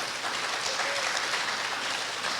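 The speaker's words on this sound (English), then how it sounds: "Can we please have a big round of applause for our judges tonight?" Applause for the judges at the 2021 Herbstfest Queen pageant, a steady, moderately faint patter of many hands clapping throughout, with no talk over it.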